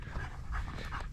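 Jack, a dog out on a walk near a cliff edge at Bryce Canyon, pants rapidly and steadily close by, quick rhythmic breaths over faint outdoor background.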